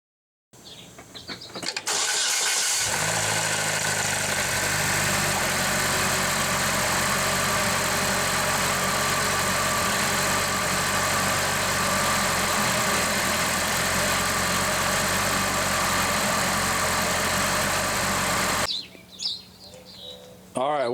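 A turbocharged Chevrolet Cobalt SS with the LNF engine cranks and fires at the start, then settles into a steady, loud idle that runs close by for most of the stretch before cutting off near the end.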